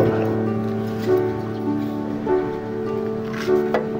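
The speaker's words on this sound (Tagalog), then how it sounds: "Ayan, bumuga yung makina niya" An overused walk-behind road roller's engine runs steadily with a low, throbbing puff and a slightly uneven rhythm, close by and fairly loud.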